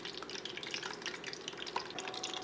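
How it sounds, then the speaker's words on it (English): Shrimp fried in hot oil in a saucepan, a steady close sizzle with fine crackles and pops running throughout, no voices. "oil is hot enough to cook the shrimp"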